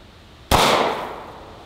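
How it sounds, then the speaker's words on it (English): A single sharp gunshot from a Glock 23 pistol in .40 Smith & Wesson at an outdoor range aimed at a railroad-tie backstop, one loud close crack with a short fading tail, no talking. "This is the 40 Smith & Wesson out of the Glock 23."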